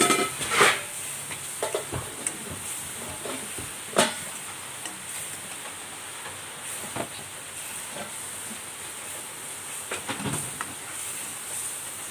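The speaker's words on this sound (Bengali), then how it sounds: "2-3 মিনিট আমি মশলাটা কষাই নিলাম।" Spice paste with coriander powder and salt sizzles softly in a pan, with a steady low hiss and occasional scrapes and clinks of a spoon stirring against the metal.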